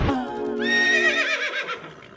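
A horse in a video game lets out a single loud, close whinny that rises, wavers and trails off over about two seconds, with no talk over it.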